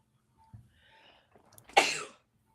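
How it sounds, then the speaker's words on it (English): A single loud sneeze from an adult indoors, a brief inhale and small throat sounds leading into one sharp, forceful burst that tails off quickly. "I have to sneeze."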